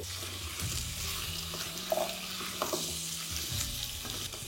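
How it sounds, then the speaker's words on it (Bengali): Small diced potatoes frying with onions in a pan on a low flame for a chicken stew, a soft steady sizzle with occasional stirring scrapes, close and fairly quiet, no voices. "এবার আলুটাকে আপনাদের 2 থেকে 3 মিনিট এইভাবেই ভালো করে একটু ভেজে নিতে হবে"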